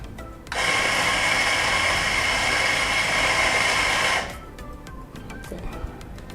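Eureka Mignon Silenzio espresso grinder set very fine, grinding coffee in a steady, loud whir lasting about four seconds that then cuts off, leaving quiet room tone.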